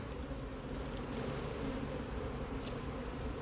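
A honeybee swarm is gathered into a hive box, filling the air with a steady, dense buzzing hum from many bees close by, with a few louder individual passes and no talk.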